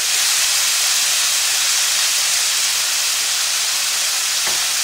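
Leftover liquid boils off in a paella pan for paella valenciana over turned-down heat, a steady loud hiss and sizzle that holds even throughout with no talk.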